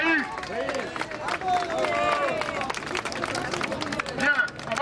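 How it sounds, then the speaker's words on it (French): A crowd at a 2010 march against terrorism applauds loudly and steadily, with clapping mixed with cheering voices and a babble of people talking close by. "On va l'applaudir très fort."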